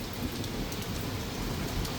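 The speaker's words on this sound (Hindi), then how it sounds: "देखो ये नीचे कितनी बारिश हो रही है, कितना पानी आ रहा है" Heavy rain pours steadily onto a rooftop in Mussoorie, a dense, even hiss of drops with no voices.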